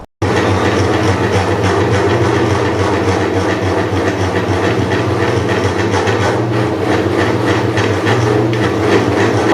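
A boring machine at a welding shop runs loudly and steadily, a dense continuous mechanical roar with a faint rhythmic clatter throughout, starting abruptly and never pausing.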